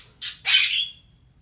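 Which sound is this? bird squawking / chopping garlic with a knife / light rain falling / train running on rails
bird squawking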